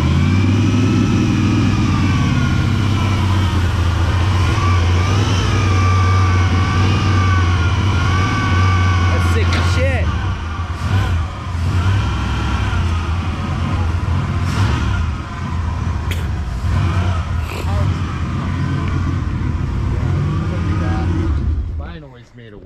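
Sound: plow truck engine running and revving

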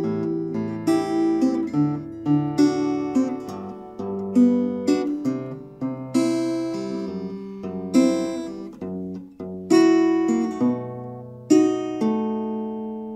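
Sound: fingerstyle guitar playing STALKER theme from the beginning

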